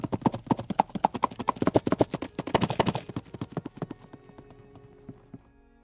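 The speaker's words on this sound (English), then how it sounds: "Eustace rode his horse toward the emperor who called upon him." Horse hooves clip-clopping rhythmically as a rider moves along a street, a steady quick clatter of close hoofbeats that gradually slows and fades toward the end.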